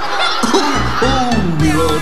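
Voices imitate a little yellow hen clucking in a children's concert setting, a choppy series of short, rhythmic bawk-like syllables sung together over a bright, busy background.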